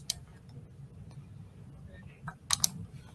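A computer mouse clicks a few times on a desk, the sharp clicks coming close and fairly quiet among soft background noise.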